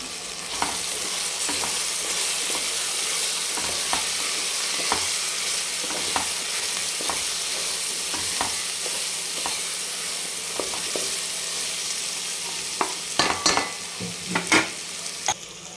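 Cumin powder and spices sizzle steadily in a hot pan for spiced rice while a utensil scrapes and stirs at intervals, with a few sharper clanks toward the end.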